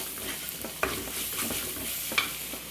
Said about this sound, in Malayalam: ഇതിന് നമ്മുടെ സവാളയൊന്ന് ഇതുപോലെ ഒന്ന് വഴന്നു വന്നിട്ടുണ്ട് കേട്ടോ